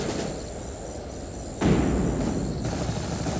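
Gunfire from a sniper in the video game Tiny Troopers: a sudden loud shot about halfway through, followed by a sustained burst of rattling fire over steady ambient game noise.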